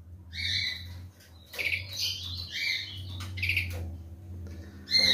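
Young songbird chick calling close by, giving bursts of high squawking chirps in several separate spells with short quiet gaps over a low steady hum.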